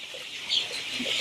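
Egyptian Fayoumi hens on a poultry farm give soft, scattered clucks over steady farmyard background noise, with a few short calls standing out near the middle and at the end.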